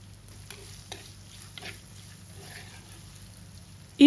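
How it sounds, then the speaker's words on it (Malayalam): Potato and carrot stirred and sautéed in a pan for a paneer stew, a soft steady sizzle with faint scraping stirs, and a louder clatter at the very end, no talk. "എന്നിട്ട് നമുക്ക് നന്നായിട്ടൊന്ന് വഴറ്റിയെടുക്കാവുന്നതാണ്"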